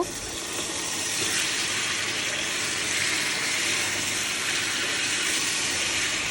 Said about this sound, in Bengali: মুরগি আর আলুটা ভালো মতো কষানো হয়ে গেলে আমি এখানে পানি দিয়ে দিব।